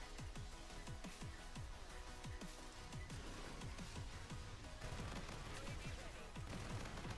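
Rapid automatic gunfire from a weapon with a rapid-fire variant in a first-person shooter video game, with dense bursts of loud shots running continuously and almost without pause.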